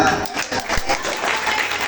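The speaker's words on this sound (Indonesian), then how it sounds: "Silakan tepuk tangan." An audience at an Isra Mi'raj commemoration and haul gathering claps steadily, a dense crowd applause for about two seconds with a few voices mixed in.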